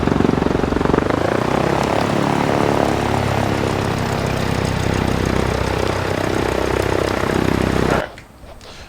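A Cessna engine in a flight simulator game drones loudly and steadily while the plane taxis toward a runway, then cuts abruptly to quiet near the end.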